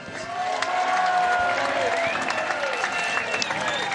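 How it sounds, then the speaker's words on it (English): A crowd at the Commonwealth Games 2018 men's fours lawn bowls final applauds and cheers Scotland's gold medal win with a dense, sustained wash of clapping while an announcer talks over it through a PA. "Big cheer for Scotland."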